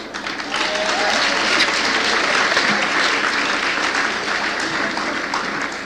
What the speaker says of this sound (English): That wasn't meant to be an applause line, but thank you anyway